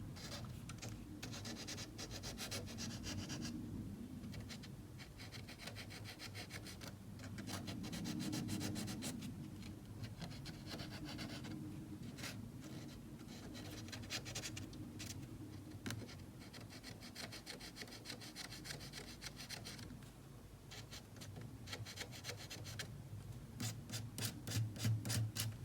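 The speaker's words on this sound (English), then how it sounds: "I have a little bit of a tool mark for my pliers, so I'm just going to sand that off." Hand sanding of a hammered metal earring to remove a plier tool mark, a steady scratchy rubbing that keeps going at an even, close level with no talking.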